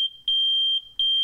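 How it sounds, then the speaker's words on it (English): A shrill, piercing smoke alarm beeps in sharp repeated bursts, loud and close, with a steady high tone between the pulses. "That last one was the sound of a smoke alarm."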